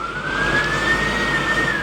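A turbocharger whistles as a steady high tone that rises slightly in pitch and then holds. It sits over a continuous engine rumble and carries on at moderate loudness without any talk.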